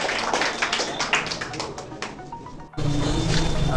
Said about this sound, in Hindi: तो मैं सभी को कहूँगा कि इनके लिए एक जोरदार ताली हो जाए।